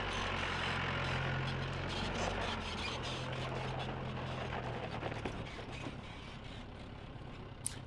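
A 4x4 vehicle engine labours steadily up a steep off-road climb during a 4x4 club challenge qualifying stage, a continuous loud mechanical drone with rattling and creaking throughout and no talk.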